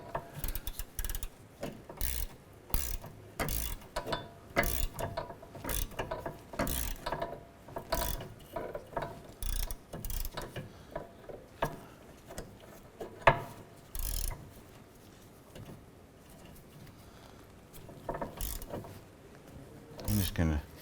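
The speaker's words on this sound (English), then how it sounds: "I'm going to use our 14mm gear wrench, and let's go ahead and remove the nut here." A 14mm gear wrench ratchets a rusty nut off a sway bar link on a 2008-2012 Honda Accord, giving repeated bursts of close, fast clicking with short pauses between strokes.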